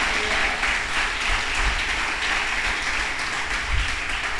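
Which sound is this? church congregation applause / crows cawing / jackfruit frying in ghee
church congregation applause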